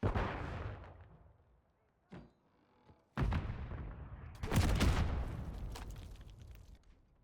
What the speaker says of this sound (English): He barely even saw me and he pulled the trigger and fired.